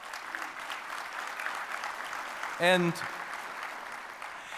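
Audience at a city State of the City address applauding, a moderate, steady patter of clapping with a short spoken word cutting through partway.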